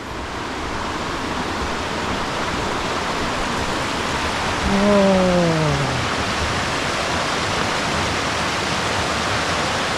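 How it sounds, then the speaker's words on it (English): Water rushes steadily at a stream crossing beneath a bridge on a remote volcano hiking trail, a loud continuous broadband roar filling the whole span, with a brief exclaiming voice midway. "We've come upon another stream crossing, but luckily"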